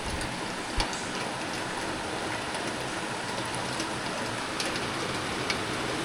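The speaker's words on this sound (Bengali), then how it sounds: "বৃষ্টির আওয়াজটা একবার শোনাই।" Heavy rain pours at night in Darjeeling, a dense, unbroken roar of water that stays loud and even throughout, with a few sharper drips standing out.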